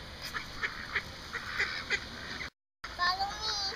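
Ducks honk and call in short bursts close by while being hand-fed by people, a brief gap of silence breaking the run of calls before more squawking resumes.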